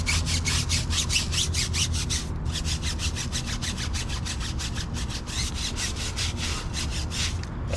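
A brush scrubs a car tire coated in wheel and tire cleaner, in fast, even back-and-forth strokes, close and loud, with a brief pause partway through and no talking.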